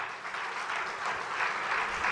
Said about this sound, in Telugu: చప్పట్లు కొడదామా వీళ్ళ కొరకు?